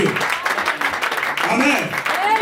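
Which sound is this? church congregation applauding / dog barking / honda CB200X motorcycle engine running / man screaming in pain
church congregation applauding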